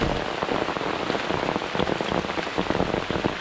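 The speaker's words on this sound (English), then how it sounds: "as you can see, it's raining pretty good" Steady rain pattering down on a hiking trail in Alabama, a dense close hiss of drops striking wet ground and leaves without pause.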